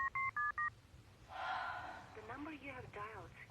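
Four quick telephone keypad tones are dialed in a steady rhythm, followed by a short hiss and a person's voice speaking.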